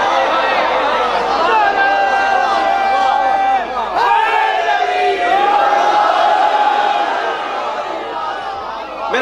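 A large crowd at a religious gathering on Mola Ali shouts slogans in loud unison, the chanting voices rising and falling together and filling the whole stretch without a break.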